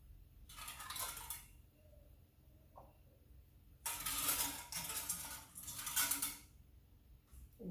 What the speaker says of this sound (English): Now I'm just placing all the lids on top.